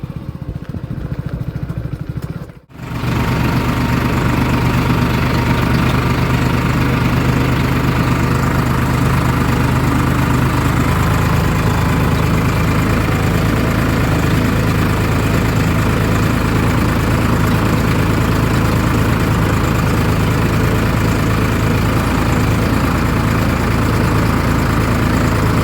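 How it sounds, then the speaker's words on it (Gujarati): A tractor engine runs in a village, loud and steady after a brief quiet moment at the start, holding a constant low idle throughout. "વાળા ટ્રેક્ટર જાય ઉત્તમબા"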